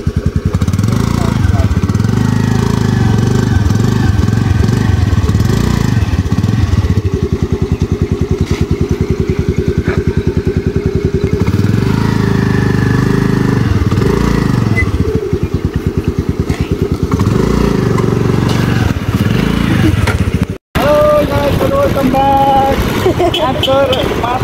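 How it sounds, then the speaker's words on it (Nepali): A scooter engine idles and revs unevenly as it is turned around in a cramped space, a loud, close mid-pitched putter that ends abruptly near the end as a voice speaks. "सानो ठाउँमा स्कुटर घुमाउनुको स्ट्रगल"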